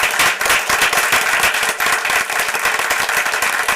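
A board meeting audience breaks into dense, sustained applause for a young man, many hands clapping loudly and steadily with no voices over it.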